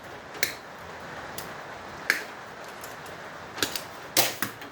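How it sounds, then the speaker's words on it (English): Wire cutters snipping wire off scrap electronics while salvaging copper, heard as a few sharp, isolated snaps and clicks spread over a few seconds against a steady background hum. "Just cut the wire off this one."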